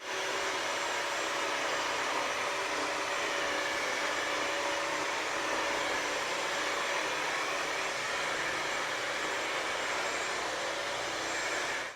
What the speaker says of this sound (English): next up, we're cleaning the same exact mess with the Bissell